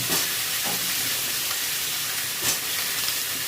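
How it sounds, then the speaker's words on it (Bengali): Vegetables frying in hot oil in a kadai, a steady loud sizzle and crackle that fills the whole stretch, with a couple of brief stirring swells, no voices. "একে একে সব সবজিগুলো কিনে ফ্রাই করে নেব"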